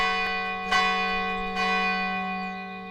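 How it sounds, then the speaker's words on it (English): A bell struck twice in a fantasy tabletop game scene, each ringing strike blooming into a sustained metallic hum that lingers and slowly decays, with no talk over it. "you see Durin goes up to the bell and hits it."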